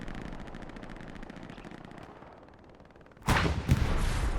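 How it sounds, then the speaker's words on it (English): Distant MG-42 machine gun fire during a competitive video game match in a valley map, a faint rapid rattle that gives way to a louder, closer burst of gunfire near the end. "Not sure if it was Haydn or where that MG fire was coming from."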